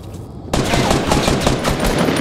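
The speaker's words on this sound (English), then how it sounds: "Shit, he's shooting me." Rapid automatic gunfire in the video game Fortnite, a loud close burst of quick repeated shots that starts abruptly after a brief quiet moment and keeps going.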